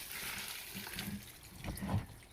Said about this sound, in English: I want to dump the water anyway.